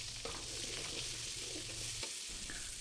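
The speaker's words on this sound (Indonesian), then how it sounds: "Bumbu kari masuk, tinggal kita tumis bumbunya, kita masak sampai berbau harum" Ground curry spice paste with lemongrass, bay leaf and lime leaves frying in oil, giving a quiet, steady sizzle with soft stirring scrapes throughout.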